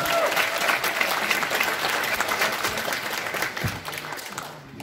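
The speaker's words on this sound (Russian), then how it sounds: "Поддерживаем, поддерживаем аплодисменты, ребята!" A comedy league semifinal audience in Zaporizhzhia applauds, dense close clapping from a large crowd that holds steady and then gradually thins and fades toward the end.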